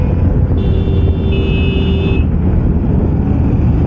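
Road traffic rumbles steadily, with a tone like a horn or buzzer held for a moment, from a roadside in Bihar where many motorbikes are on the road. The sound is loud and close and is heard without talk.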